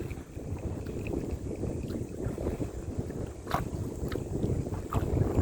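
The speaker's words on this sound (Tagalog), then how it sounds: "ang lakas ng hangin" Strong wind buffeting the microphone with a constant low roar while fishing outdoors, with faint water sounds mixed in and no talking.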